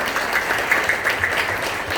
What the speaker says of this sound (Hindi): अगर अच्छा लगता है जोरदार ताली बजाइए